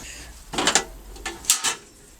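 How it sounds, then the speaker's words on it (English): A metal side door on a Hitbox MT2000 II welder is unlatched and swung open in a workshop, giving two close bursts of clanking, rattling hardware about a second apart, with no talk. "Open the door."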